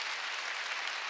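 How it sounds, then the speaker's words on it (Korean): A church congregation applauds during a Sunday worship service, a brief, even wash of many hands clapping at once, soft and somewhat distant, with no voices over it. "박수를 치려면 세게 치고 말려면."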